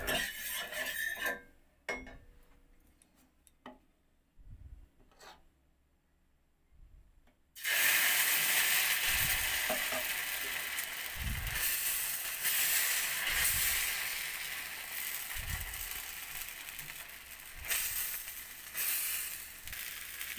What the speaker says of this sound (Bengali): এইভাবে বাকিগুলো ভেজে নেব।